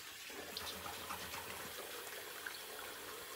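A shaving brush is rinsed under running water at a sink, a steady faint splashing gush with a few small drips and clicks, no voices.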